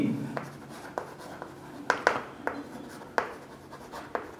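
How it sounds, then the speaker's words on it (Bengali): Pen or chalk writing during a physics lesson, a string of short scratchy strokes and taps at an irregular pace, faint and close, with a voice speaking softly at times. "এবার আমরা একটু লিখে নেব"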